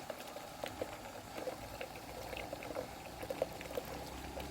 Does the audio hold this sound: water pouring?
yes